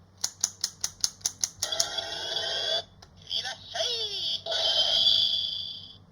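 An Inromaru toy from Shinkenger plays its electronic sound effect, a Japanese welcome phrase, opening with a quick run of sharp beeps, then bright synthetic tones and a sweeping voice-like call, close and clear.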